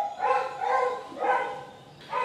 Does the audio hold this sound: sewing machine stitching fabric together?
no